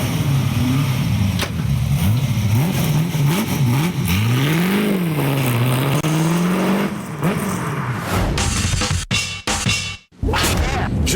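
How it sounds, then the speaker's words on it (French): A Ford GT40 engine revs loudly and close up, its pitch climbing and falling over several throttle blips before cutting to sharp bursts and a brief drop near the end. "Je vais vous faire profiter du bruit du moteur."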